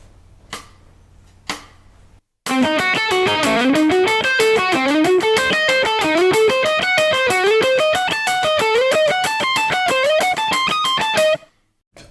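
An electric guitar plays a quick lick of sliding three-note phrases over a steady click track, with bright repeated notes and a couple of clicks alone at the start.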